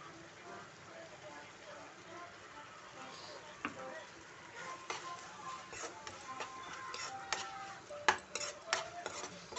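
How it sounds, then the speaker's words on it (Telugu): A spoon stirring a drumstick and tomato curry in a pan produces soft, faint scraping and clicking taps that grow more frequent and sharper toward the end. "మంచి మిక్స్ చేసుకోవాలి, ఇట్లా కలుపుకోవాలి."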